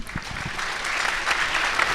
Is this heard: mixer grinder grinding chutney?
no